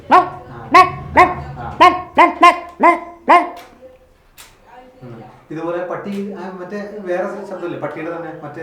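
A person imitates a small dog with a quick run of about seven high, sharp yapping barks, then starts talking.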